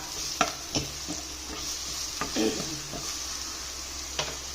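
Onion and curry leaves fry quietly in a pan for okra thoran, a soft steady sizzle broken by a few light clicks from the stirring utensil against the pan.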